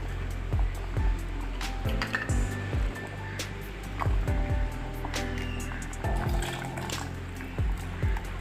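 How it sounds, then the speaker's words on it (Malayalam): Curd poured into a boiling tomato curry, with steady close bubbling, popping and liquid gurgling throughout and no talk. "കൂട്ടാൻ നന്നായിട്ട് തിളച്ചു ഇനി നമുക്ക് തൈര് ഒഴിച്ചു കൊടുക്കാം"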